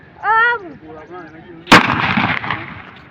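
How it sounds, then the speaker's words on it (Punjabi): At a village celebration of Guru Gobind Singh's Prakash Purab, a firecracker goes off with a single sharp, loud bang, then a brief crackling rumble as it fades. A voice is heard just before the blast. "ਹੁਣ ਪਟਾਸ ਚਲਾਉਣੀ ਆ"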